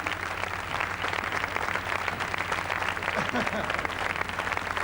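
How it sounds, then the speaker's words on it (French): A television studio audience at a New Year's carnival broadcast claps continuously in dense, even applause, with a faint voice occasionally heard underneath. "Applaudissez-les tous."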